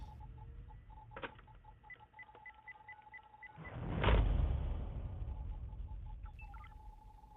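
A phone number is dialed as a rapid series of DTMF keypad tones, steady beeping at a regular rhythm over a low hum, interrupted midway by a loud rushing burst of noise before the tones resume faintly.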